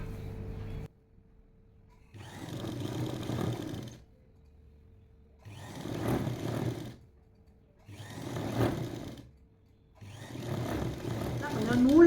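A sewing machine stitching a top with long stitches, running in four bursts of about two seconds each, separated by short quiet pauses.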